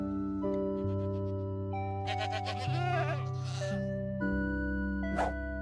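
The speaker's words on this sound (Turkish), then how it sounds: "Keçi sesleri gerçek keçilerden alındı." Goats bleat several times in a video game, recorded from real goats, wavering and nasal, over a steady droning musical background, with one short high cry near the end.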